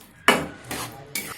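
Three scraping, clattering strokes of a utensil stirring mustard-and-spinach saag in a metal pot, each sharp at the start and trailing off, with quiet pauses between.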